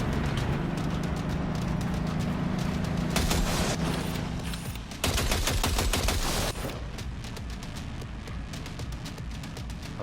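Rapid bursts of gunfire in the Cyberpunk 2077 video game, dense, loud and continuous, with a brief lull near the middle before the shooting resumes.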